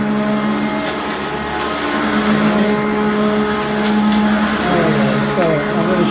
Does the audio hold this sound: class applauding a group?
no